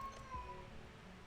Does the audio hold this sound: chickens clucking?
no